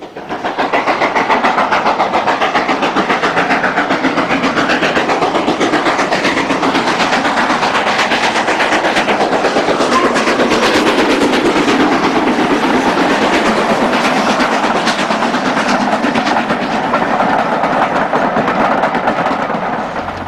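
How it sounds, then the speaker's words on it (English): A Stanier Princess steam locomotive roars past at close range, a loud sustained rumble with steady rhythmic clatter from the train, continuing throughout with no voices. "Later the same day, the Princess passes Burrs while returning to Bury."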